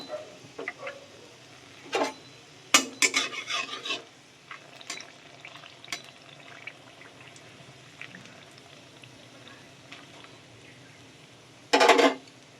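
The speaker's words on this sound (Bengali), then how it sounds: "এখানে আমার তেল গরম হয়ে গেছে, আমি এবার ফোড়নগুলো দিয়ে দেবো আস্তে আস্তে।" Whole spices, bay leaf and dried chilli dropped into hot oil for chicken chana masala, giving a quiet intermittent crackle with sharp bursts of spitting sizzle as each batch goes in.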